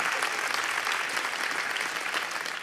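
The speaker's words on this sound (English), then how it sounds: "And that got a huge applause in the room." A room full of people at an Apple keynote event breaks into sustained applause, a thick, even wash of many hands clapping that holds steady and loud throughout.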